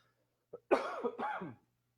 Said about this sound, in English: I'm getting over a bad cough